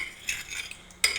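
Spoon stirring turmeric powder into a chicken liver mixture in a bowl, quiet scraping and clinking of utensil against the dish in a few short strokes, no talking.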